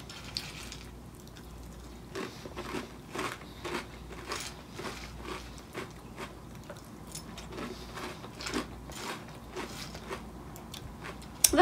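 Sonic the Hedgehog corn cereal with marshmallows, eaten with Silk milk: soft, close crunching and chewing repeats steadily, with faint wet spoon clicks and no speech.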